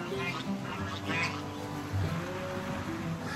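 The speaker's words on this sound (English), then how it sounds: "Geese fight." Geese fighting on a farm in China, a mix of honks and quack-like calls heard at a moderate distance over steady outdoor background noise, with scattered squawks and no clear talking.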